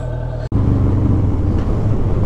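Motorcycle pulling away on a ride through Douglassville, Pennsylvania, its engine rumbling loud and close after a brief break, with steady wind and road noise under it.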